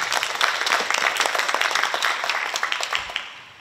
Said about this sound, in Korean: 큰 박수로 맞이하여 주십시오.